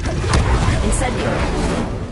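Incendio fire spell cast in Hogwarts Legacy, a steady, broad roaring whoosh that lasts a couple of seconds, with a voice talking over it.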